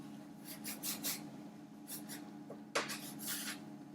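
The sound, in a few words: cutting cheese straw pastry into strips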